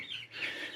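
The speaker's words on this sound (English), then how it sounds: "the new chickens are happy back there" Chickens in a backyard coop cluck and chirp softly in a brief, faint burst of bird calls.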